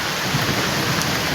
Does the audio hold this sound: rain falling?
yes